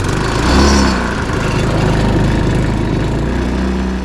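A newly installed engine on an Alfa moped runs close by, a loud, slightly uneven buzzing idle with a steady pulsing throb that surges briefly near the start.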